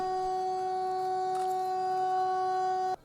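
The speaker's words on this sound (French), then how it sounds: "1 minute de sirène." A one-minute memorial siren holding a single tone, loud and unbroken, then cutting off abruptly near the end.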